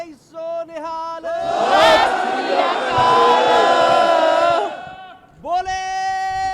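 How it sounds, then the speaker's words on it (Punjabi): A crowd of international students and foreign workers at a Manitoba protest roars a Sikh jaikara response in one long, loud, massed shout, framed by a single amplified voice leading the call just before and after. "ਤਿੰਨ ਜੈਕਾਰੇ ਜ਼ਰੂਰ ਛੱਡਣੇ ਆ"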